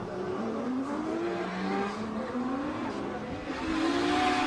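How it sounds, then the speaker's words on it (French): Subaru BRZ drift cars launching on a race track at Croix-en-Ternois during a drift competition, a continuous engine roar with rising revs and tire noise, fairly close and steady throughout. "Avec la BRZ qui va partir devant Yvon Buisson qui va devoir suivre."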